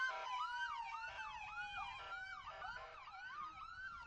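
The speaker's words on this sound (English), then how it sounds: "you're going to hear that siren" Several emergency sirens wailing together, overlapping rising and falling tones, loud and continuous without pause.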